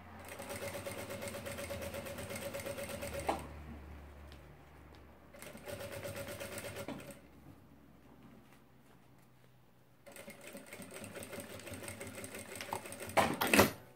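A sewing machine runs at half-foot speed to close a seam, joining the right side of the fabric to its lining. It whirs steadily in three bursts separated by short pauses, fairly close and with no talking.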